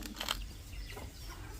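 Farm chickens cluck softly as fresh grass is thrown to them, a few short clucks early on over steady outdoor background noise, with no talking.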